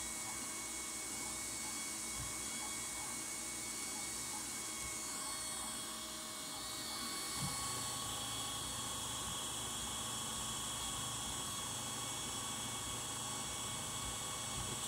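A 3D printer printing a NASA ratchet wrench: a steady whirring, whining hum of motors and fans with faint tonal buzzes, continuous and fairly quiet, with a slight shift in pitch partway through.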